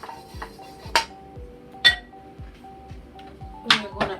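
A metal pot being heated and handled on a stove for brown stew chicken gives sharp clinks and clanks, three or four distinct metallic knocks spaced apart, with a faint steady background hum.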